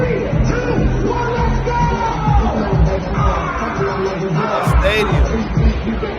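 Packed stadium crowd at a Houston concert yelling and whooping in a loud sustained roar, with nearby voices talking and shouting over the din.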